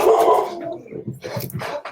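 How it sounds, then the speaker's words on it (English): Several dogs barking outdoors near a house, a cluster of yips and barks in quick bursts at moderate distance, fairly loud, with no talk over them. "I'll just wait till the dogs have stopped barking."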